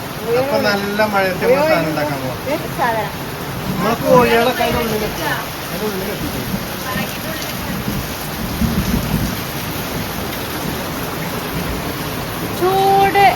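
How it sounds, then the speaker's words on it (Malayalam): Heavy rain pours down in a steady, loud wash with low rumbles mixed in, while voices talk over it on and off. "മഴ നല്ല മഴ"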